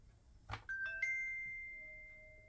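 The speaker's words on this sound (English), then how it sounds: "Sorry guys, that's my Ring doorbell." A soft tap is followed by a clear electronic Ring smart doorbell chime, two ringing tones that sustain and slowly fade in a quiet room.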